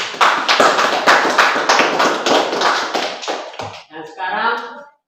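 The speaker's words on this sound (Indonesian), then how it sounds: "tepuk tangan." A group claps hands in a short burst of fairly loud rhythmic applause at a school class presentation, fading out as it ends, with a voice speaking briefly near the end.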